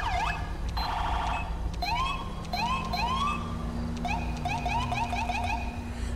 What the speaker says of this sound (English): Remember how to activate the siren.